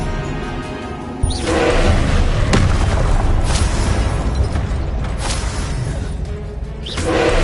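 Repeated Confringo blasting-spell explosions from a video game, loud booms and bursts with whooshing tails landing one after another over a steady rumbling background, no talk.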